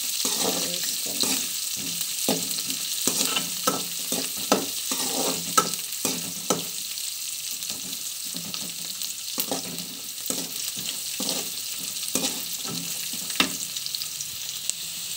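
Steady stirring of dry fruits and jackfruit pulp in a pan over low heat for jackfruit payasam, a spoon scraping in repeated short strokes over a soft continuous sizzle.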